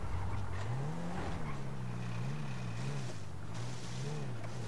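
A car engine in the video game GTA V drones and revs in a wavering, repeating pattern, moderately quiet, with no speech.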